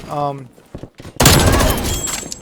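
Assault rifle fire in the video game Black Ops Cold War, a loud, sustained burst of rapid shots that starts abruptly after a short stretch of game sounds.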